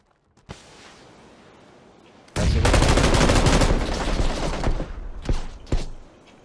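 Gunfire from two squads battling each other in PUBG: a lone distant shot, then a sudden dense burst of rapid automatic fire that rattles on for several seconds before tapering into a few scattered shots.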